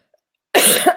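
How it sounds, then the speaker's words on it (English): A single sharp cough bursts out after a moment of silence, close and loud. "I'm coughing"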